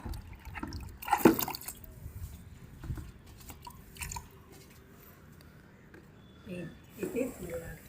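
Vegetables covered in soil being rubbed and rinsed by hand in a bowl of water in a home kitchen, with splashes, drips and squishy sloshing in short bursts while someone talks over it.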